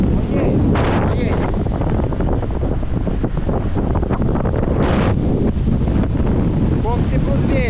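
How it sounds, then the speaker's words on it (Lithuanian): Strong hurricane wind at the storm's centre on an island batters the microphone in a constant, heavy roar and buffeting rumble, loud and unbroken from start to finish. "Koks stiprus vėjas."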